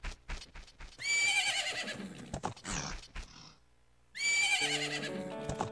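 Two loud, bright horse neighs in Zelda: Majora's Mask, one shortly after the other with a brief snort and hoof sounds between, game music notes trailing the second.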